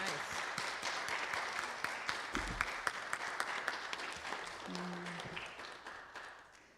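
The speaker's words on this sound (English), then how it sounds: "I think we want to give a warm applause to Bonnie in that power." Warm applause from a congregation at a Unity Center of Divine Love and Light service, fairly faint and scattered with distinct individual claps, plus a brief vocal murmur partway through.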